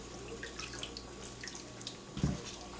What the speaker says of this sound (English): we kind of strain it like this, keeping the coarse fibers inside the strainer here, and everything else comes out into the water